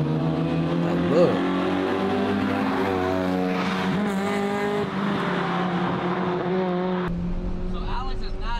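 Cars running close together on a mountain touge road, heard from inside one car as a loud, sustained engine drone that rises and falls with revs, with people talking over it.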